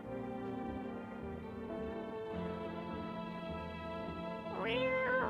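A cat meowing in the video game No I'm Not A Human, one drawn-out meow rising near the end over steady droning game music.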